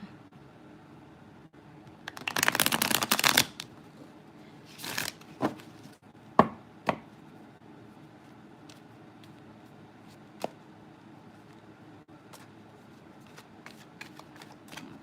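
Tarot cards are shuffled in one quick riffling burst, followed by a few soft scattered taps and clicks in a quiet room.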